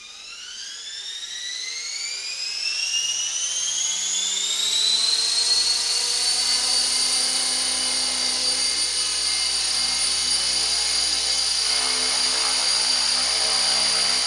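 An Align T-Rex 450 RC helicopter with a torque tube tail system spooling up and flying, its rotor and motor whine rising steadily in pitch over several seconds, then holding a loud, steady high whirring tone.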